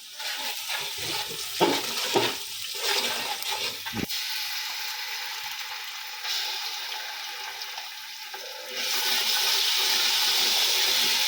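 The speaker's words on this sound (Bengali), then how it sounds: "আদা রসুনটা এখন একটু ভেজে নেব" Ginger and garlic frying with onions in a pan: crackling sizzle with utensil scrapes early on, then a steady hiss that grows louder near the end, close by, no talk.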